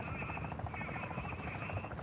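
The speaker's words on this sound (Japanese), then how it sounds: "コマンダーヘリも厄介だな。" Commander helicopter in the video game DMZ, a continuous thudding rotor drone with steady rhythmic chop, loud and close throughout.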